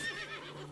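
A horse whinnies briefly in the video game Above Snakes, a short nearby neigh set against steady game ambience with no talk.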